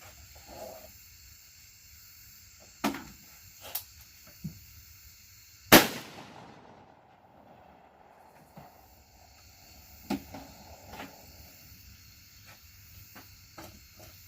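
A single sharp, loud shot from a Tristar Raptor ATAC tactical 12 gauge semi-auto shotgun cracks mid-clip with a trailing echo outdoors, surrounded by several faint distant pops and quiet background hiss, no talk.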